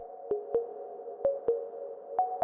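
Sine-wave synth plucks run through Fruity Reverb 2 with a long decay, six soft notes in pairs over a sustained reverberant wash, quiet and alone.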